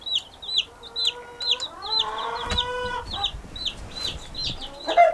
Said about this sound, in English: the new flock of baby chicks, and they're all doing really good